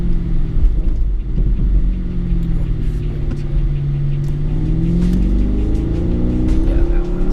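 A 2019 Porsche Panamera GTS engine at half throttle drones with a deep, steady rumble from inside the cabin, its pitch rising and easing as the car pulls.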